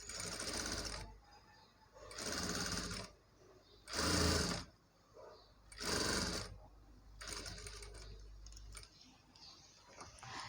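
Sewing machine stitching piping onto a Punjabi dress top, running in four or five loud whirring bursts of a second or so, separated by short pauses and softer handling noise.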